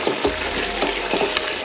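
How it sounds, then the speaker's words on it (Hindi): Spices tempering in hot oil in a pan for a tadka in a home kitchen, a steady close sizzle broken by a few clinks and stirring knocks. "तो अब लगाएंगे तड़का जल्दी से"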